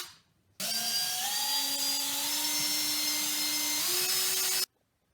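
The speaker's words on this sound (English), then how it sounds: "I'm going to drill holes in each one and I'm going to screw in these eye bolts" A power drill whines steadily for about four seconds, its pitch rising slightly partway through as it bores into wood, then cuts off abruptly.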